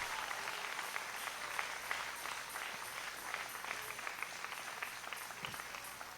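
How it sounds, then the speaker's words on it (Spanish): A church congregation applauds steadily for the whole clip, with dense, even clapping heard at a slight distance. "si le va a aplaudir, hágalo fuerte."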